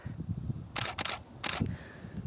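A Canon camera shutter fires twice in quick succession at a fast shutter speed, each release a short, crisp mechanical snap at close range against a quiet outdoor background.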